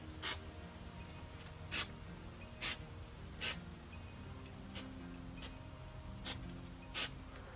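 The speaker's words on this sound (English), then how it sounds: "and spray it with a little fixative." Short hissing bursts from an aerosol can of fixative sprayed over super-glued fittings while installing a TV in a cargo van conversion, about eight quick close puffs spaced irregularly over a quiet background.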